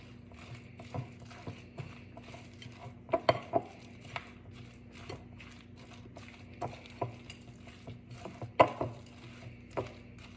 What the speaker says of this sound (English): let me just mix this up the best I can with the mix and stir